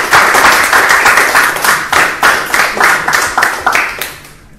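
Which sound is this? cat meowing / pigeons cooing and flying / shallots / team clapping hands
team clapping hands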